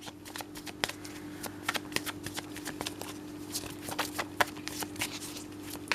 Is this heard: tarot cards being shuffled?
yes